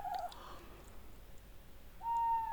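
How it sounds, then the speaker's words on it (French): An owl hoots outside at night in two faint, far hoots, one at the start and one near the end, with quiet stillness between them. "j'entends la chouette dehors"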